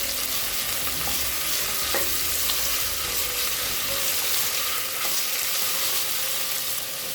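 Tomatoes fry with onion in a pan for brinji rice, giving an even, close sizzle and crackle with occasional stirring scrapes throughout.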